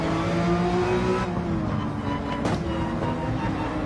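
A Porsche 911 race car in Gran Turismo 7 drones loudly through a corner, engine note sliding downward under braking, with continuous tyre and road noise.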